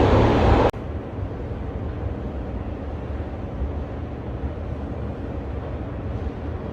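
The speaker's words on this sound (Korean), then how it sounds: "이렇게 바람 세게 불고" Strong winter storm wind blowing across the open square at the Brandenburg Gate in Berlin on an empty morning in February 2022, a steady low roaring rush with buffeting rumble on the microphone and no voices.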